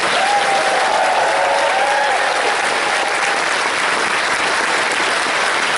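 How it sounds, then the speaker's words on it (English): An audience at a convention opening ceremony breaks into loud, sustained applause, dense clapping that holds steady for several seconds, with a brief voice faintly over the start. "Another round of applause"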